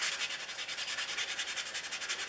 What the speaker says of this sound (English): So that's it for the sanding block.